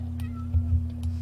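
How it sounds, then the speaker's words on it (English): A cat in The Sims 2 video game gives a few short, soft meows over a steady low hum, fairly close and quiet. "did I hear a kitty cat?"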